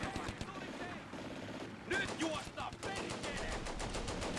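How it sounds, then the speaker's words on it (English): Gunfire in the Combat Mission: Barbarossa to Berlin video game, in a battle to retake Viipuri, comes as rapid machine-gun bursts and scattered shots under someone talking. "so we are getting shot on the left side"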